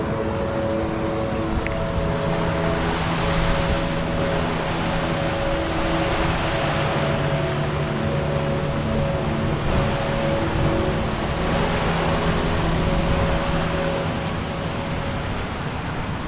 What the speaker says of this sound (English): when there's so many gorgeous falls like this, beautiful dipping spots